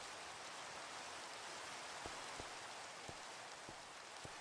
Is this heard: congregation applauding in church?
no